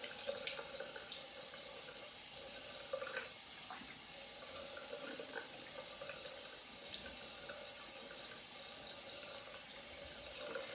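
Running tap water splashes steadily into a sink as a straight razor with a barber's notch is rinsed, a soft, even stream heard close and alone.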